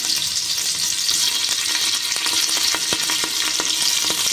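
Shallots and curry leaves fry in hot oil for Kerala-style thengachor, a steady close sizzle with sharp crackles and pops bursting through toward the end, no voices.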